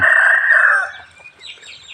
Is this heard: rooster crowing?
yes